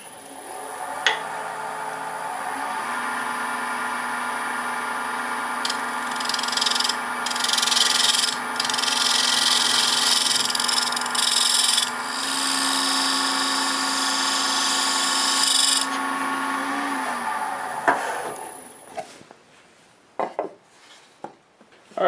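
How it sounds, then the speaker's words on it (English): A scraper takes a light shaving cut on a winged wooden bowl held in a jam chuck on a lathe. The motor hum runs steady throughout, with a scratchy high scraping texture from about 6 to 16 seconds, then the lathe winds down. "since it's such a small amount, I'm just going to use a scraper"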